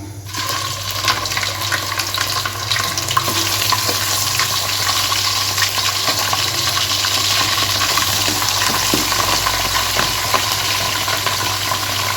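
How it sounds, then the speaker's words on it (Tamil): Chicken frying in a spicy Chettinad gravy in a pan, with a loud, continuous sizzle and bubbling while the pieces are stirred. "இப்போ நம்ம இதில் அப்படியே சிக்கனை அப்படியே போட்டுக்குவோம்"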